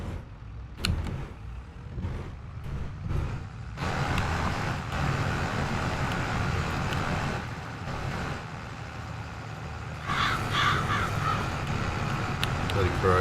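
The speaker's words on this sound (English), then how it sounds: "Bloody crows, just well as we don't have any corn in. Here eating our crop." Crows caw repeatedly in Farming Simulator 22, with sharp calls over a steady vehicle engine drone that keeps running under people talking.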